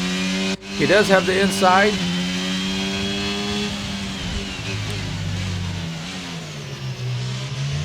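A Formula 1 car in F1 22 at the British Grand Prix accelerates hard out of a corner, its high engine whine climbing in pitch through the gears, loud and continuous, with someone speaking briefly over it.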